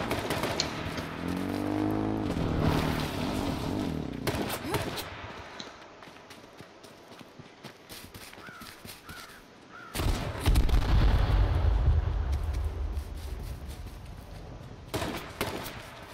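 Gunfire in the survival video game H1Z1, with bursts of loud shots and rumbling blasts separated by quieter stretches.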